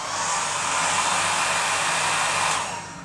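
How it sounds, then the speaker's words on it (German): A hair dryer fitted with a hot-air diffuser for curly hair runs on its lowest setting, a steady close whooshing airflow with motor hum that tapers slightly at the end. "ich stelle den Föhn jetzt hier, Fokus, nur auf die erste Stufe."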